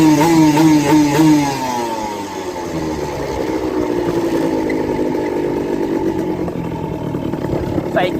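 A Honda LS125 motorcycle engine runs while riding, a loud close buzz that falls steadily in pitch as the bike slows after a missed shift into fifth gear, settling into a lower drone.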